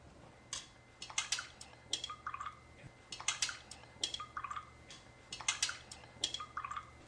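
Spoons clink and tap rhythmically against cups of bottled and tap water being stirred, bursts of light clatter and liquid swirl repeating at close range, with no talk.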